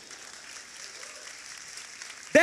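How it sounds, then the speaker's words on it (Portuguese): A church congregation claps during a celebration service: faint, steady applause from a distant crowd, ending with a sudden loud sound at the very end. "Palmas para Jesus"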